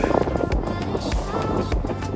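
Wind on Denali buffets the microphone in a constant low roar, gusting steadily throughout, with faint talk buried underneath.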